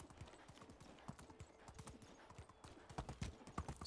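Hoofbeats of a stallion in the medieval life game Medieval Dynasty, a steady run of clip-clop strikes that grows louder and nearer toward the end, with a faint whinny and light talk underneath.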